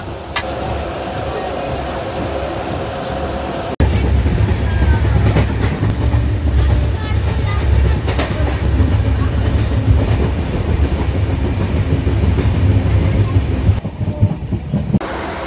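A loud, steady rumble of the Tamralipta Express running on rails between Digha and Howrah, with rhythmic clatter throughout and occasional voices faintly in the background.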